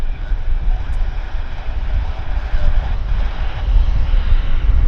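Heavy aircraft at Vancouver airport produce a steady, loud low-frequency engine roar that swells toward the end, with wind noise against the microphone and no speech.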